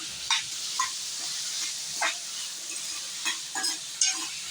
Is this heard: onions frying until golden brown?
yes